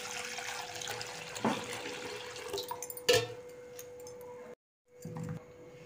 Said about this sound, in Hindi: अभी हम आलूओं को भी धो लेते हैं।